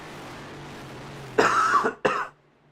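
Two quick, rough coughs close to the microphone, the second shorter, after a stretch of quiet background hum.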